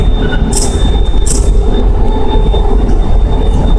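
The Phoenix Sky Train, a driverless automated rail line, rumbles along loudly from inside the car, with a steady low roar, a thin high whine and two brief hissing squeals early on.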